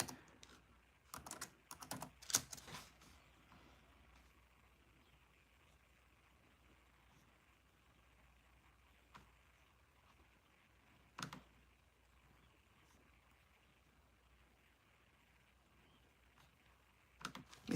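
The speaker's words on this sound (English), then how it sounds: "Let me type this in." Bursts of computer keyboard typing come in clusters near the start, then single faint keystrokes scattered over quiet background hiss, with one more brief flurry at the end.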